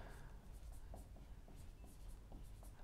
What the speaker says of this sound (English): So I'll just write it here.